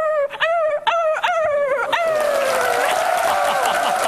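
A voice imitates a puppy yelping after being kicked: a run of rapid, high, wavering yips, then a long drawn-out whining cry, loud and close, on a Korean TV quiz show stage.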